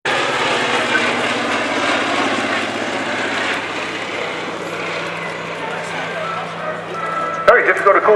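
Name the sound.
naval aircraft flying past at an airshow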